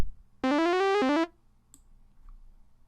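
Arturia Modular-V sequencer at a faster speed: a short, loud run of rapid stepped synth notes climbing in pitch over just under a second, then breaking off into quiet room noise.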